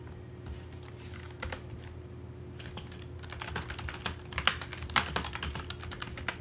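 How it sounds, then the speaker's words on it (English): Steady typing on a computer keyboard, quick irregular clicks close to the microphone that grow busier toward the end, over a low constant hum with no talking. "I was typing something to see if I could find any more information"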